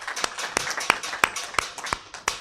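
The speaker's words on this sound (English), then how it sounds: "You can give him a hand clap." A small audience at an arbitration training symposium gives a panelist a sparse, irregular round of hand claps, about ten separate claps spread over a couple of seconds, fairly close and moderately loud.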